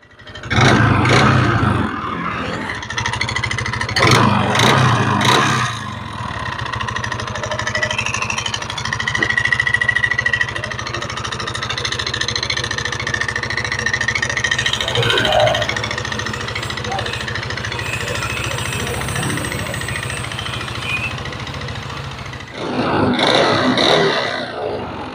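Yamaha NMAX scooter engine knocking hard while being revved, a loud continuous mechanical clatter and whine with rising bursts near the start and end, close to the microphone.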